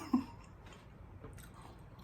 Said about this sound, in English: I wonder if my eating this food and crunching is making you want some.